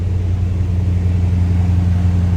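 A fuel-injected engine in a 1991 Chevrolet 2500 camper idles right after starting, a steady low rumble with an even hum, close and alone without any voices.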